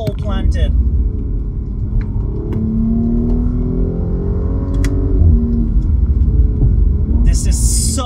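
A 2020 Audi S5 Sportback driving through a curve, its engine a loud, steady low rumble and hum from inside the cabin, with a faint rise in revs partway through and a brief rush of sound at the end.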